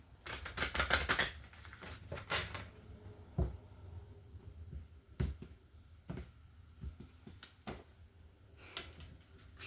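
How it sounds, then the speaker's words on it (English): Tarot cards shuffled by hand in a reading, giving a burst of quick riffling snaps and flutters at the start, then scattered sharper clicks and soft shuffling taps, close and fairly quiet with no talk. "One more shuffle for Gemini."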